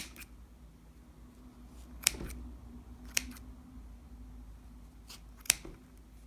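Scissors snip through knitting yarn in three crisp, quiet cuts spaced a second or two apart over a faint steady hum, trimming a tassel on a knitted baby dress.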